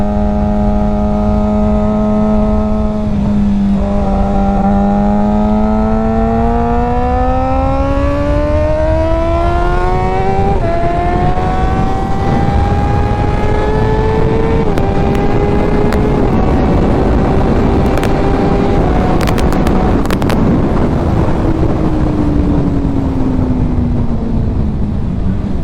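A Suzuki GSXR600 motorcycle on new tires being ridden, its engine droning loud and steady close by, the pitch climbing and dropping through gear changes with a constant rush of wind.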